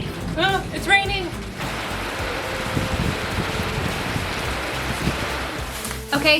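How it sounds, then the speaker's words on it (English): Rain falls steadily as a broad, close hiss of drops around a van being fitted with a 30-gallon fresh water tank, with brief voices at the start and end. "Oh, it's raining."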